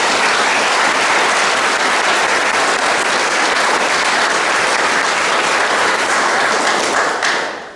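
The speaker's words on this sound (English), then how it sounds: "the whole Tucker family and Brian Johnson a big round of applause." A crowd at the Texas Junior Cup opening ceremony applauds loudly and steadily, dense clapping that holds for several seconds before tapering off at the end.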